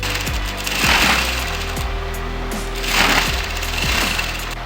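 Sewing machine stitching a back stitch into blouse fabric for a boat-neck princess-cut blouse, a loud close rapid mechanical clatter running throughout with short bursts that swell and ease.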